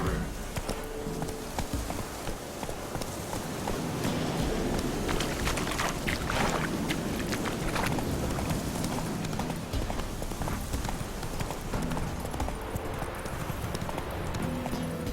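Horse galloping in The Witcher 3 video game, rapid steady hoofbeats running continuously at close range with faint wind behind them.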